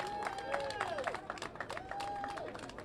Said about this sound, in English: Let's give a round of applause as well to Mayor de Blasio.